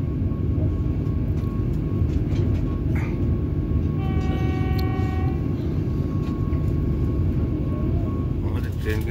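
Vande Bharat Express train running, a loud, steady rolling rumble and hum from inside the coach, with a brief tonal announcement chime midway and faint voices beneath.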